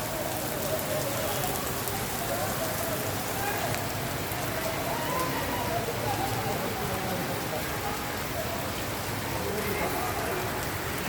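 Morning rain falls steadily on wet football fields, a constant dense patter of drops throughout with no pauses, and people are faintly heard in the background.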